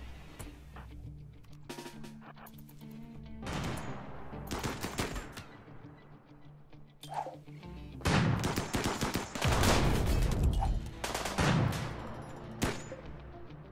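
Gunfire in the video game RimWorld: repeated bursts of rapid shots and single reports, some clustered into heavy volleys, spread unevenly across about fourteen seconds at moderate loudness, with no talk.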